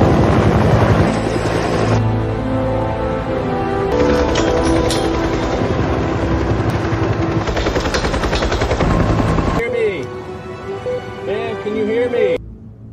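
Rapid thudding helicopter rotor chop from a rescue scene in the film Dead Sea, loud and continuous under a dense layer of dramatic music and effects.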